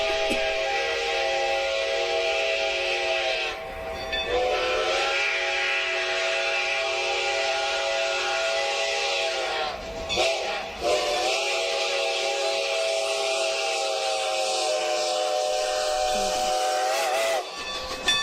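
Strasburg Railroad steam locomotive sounds a long, loud, sustained whistle, its chime-like blast held for many seconds with brief breaks, accompanied by hissing steam.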